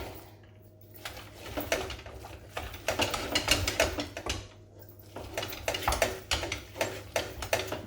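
Eggs being hand-beaten into batter in a bowl, one at a time: a rapid, rhythmic clatter of whisk or spoon against the bowl in uneven bursts, with short pauses, close by.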